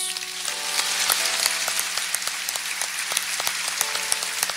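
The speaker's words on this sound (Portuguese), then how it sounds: "Aplaude Jesus" A church congregation at a Catholic adoration service claps steadily, a dense patter of applause that holds at an even level with a few louder individual claps.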